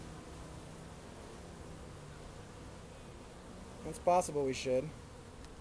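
Bees buzz in a soft, steady hum around an open beehive during an inspection, heard faintly in the background while people briefly talk near the end.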